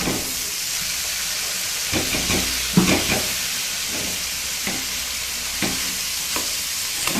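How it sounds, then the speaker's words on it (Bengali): Bottle gourd leaves stirred in hot oil with sesame, a steady sizzle and hiss with rhythmic scraping stir strokes, close and loud, no speech. "এবারে আমি শাকটা দিয়ে দেবো।"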